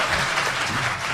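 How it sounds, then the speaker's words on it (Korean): Audience applause fills a lecture hall, dense and steady clapping from a crowd throughout the short stretch, with no talking over it. "자, 박수 부탁드립니다."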